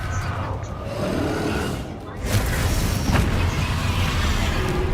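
Bombarda and Confringo spell blasts in the Hogwarts Legacy video game, a dense rumbling wash of booms and bursts with a brief dip before a louder crash of impacts, layered with busy game audio.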